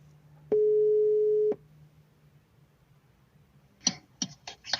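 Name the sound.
telephone call tone while calling someone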